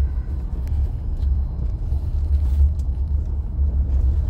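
A four-wheel-drive vehicle rolls over a gravel track with mud mode engaged, giving a steady low engine rumble with faint crunching from the tyres throughout, and no voices.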